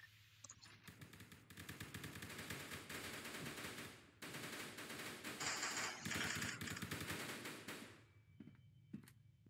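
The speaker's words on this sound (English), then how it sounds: "they're shooting at us right now" Rapid automatic gunfire in the SCP video game, long bursts of rattling shots with brief pauses between them, loud and close throughout with no talk.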